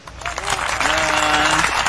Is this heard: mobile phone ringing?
no